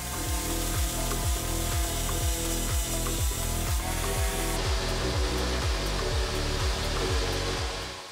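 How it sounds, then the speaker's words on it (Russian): A continuous loud grinding roar of a homemade twin-motor belt grinder sanding a metal pipe end, with a rapid rhythmic pulsing throughout and no voices. "Можно торцевать и шлифовать трубы."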